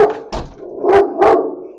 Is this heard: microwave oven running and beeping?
no